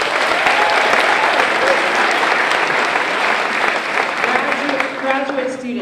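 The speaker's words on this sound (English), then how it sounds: "I want to hear by applause, and you can cheer if you want." Sustained applause with some cheering from an audience of undergraduate students at a diversity conference, a steady loud wash of clapping that holds throughout and eases slightly near the end.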